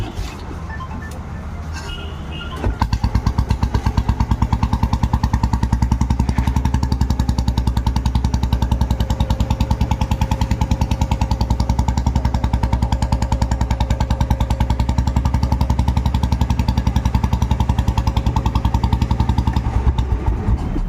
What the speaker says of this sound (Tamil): வண்டியை ஸ்டார்ட் பண்ணிகிட்ருக்கோம்.